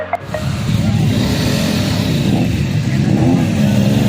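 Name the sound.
motorcycles revving at campsite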